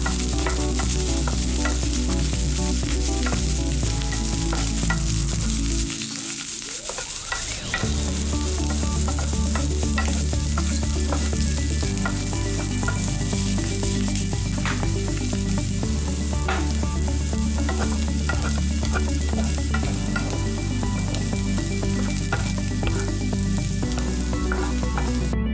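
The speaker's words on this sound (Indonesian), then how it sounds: "Kemudian tumis dan aduk sayur seledri yang telah dipotong bersama wortel dalam panci" Chopped celery and carrot stir-fry in a pan with a loud, steady sizzle close up, broken by scraping stirs and occasional clatter, with no voices.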